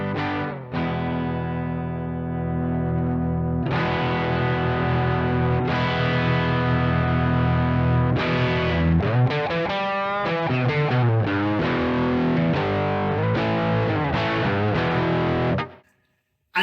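Electric guitar played through a NUX 6ixty 5ive overdrive pedal, mildly gritty sustained chords then busier riffing and single-note runs, loud and upfront with no talk, cutting off cleanly at the end.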